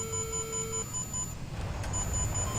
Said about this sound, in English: Still don't know what the beeping means.